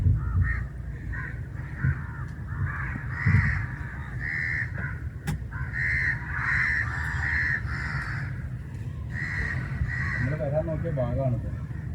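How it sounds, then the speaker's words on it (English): Crows caw repeatedly in hoarse bursts at Kadalundi bird sanctuary, heard from a boat cruise through mangroves and backwaters over a steady low engine drone, with people talking at moments. "There are some birds flying here. That is a crow"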